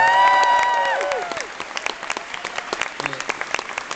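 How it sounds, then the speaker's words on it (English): Applause from a live audience at a stage show, dense clapping at first under overlapping singing or talking voices, then thinning into scattered claps that carry on alone for a few seconds. "can I hear some applause"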